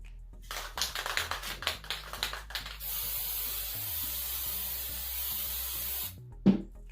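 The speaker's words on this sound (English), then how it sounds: "Always remember to shake before you spray." An aerosol spray paint can coating a glass bottle: rattling shakes first, then a steady hiss lasting about three seconds that cuts off sharply, followed by a small knock.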